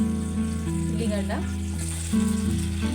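Onions frying in hot oil in a kadai, a steady close sizzle under a continuous low hum.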